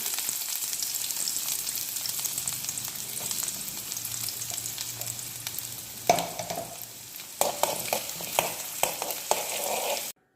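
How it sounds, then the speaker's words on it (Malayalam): Chopped shallots sizzling in ghee in a pan for porridge, a steady close frying hiss, joined after a few seconds by sharper stirring scrapes and clatters. "ഇനി നമുക്ക് അരിഞ്ഞാച്ച ചെറിയ ഉള്ളി ഇട്ട് കൊടുക്കാം"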